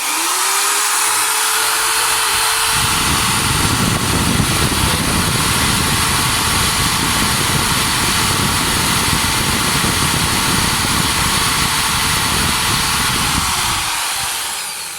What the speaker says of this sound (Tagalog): And then, ita-turn on po natin ang ating electric drill.